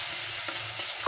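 Red chilli powder and spices fry with a brief, steady sizzle while being stirred in a pan for egg korma, with a couple of soft scraping touches and no voice.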